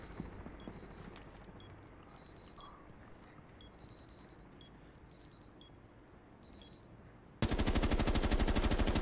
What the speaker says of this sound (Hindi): रजिस्टर ही नहीं हो रही है गोलियां।